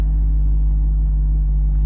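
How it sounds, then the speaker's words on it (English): A C5 Corvette engine idles steadily after a repair, a constant low rumble with a steady hum, close and continuous throughout. "The car is running."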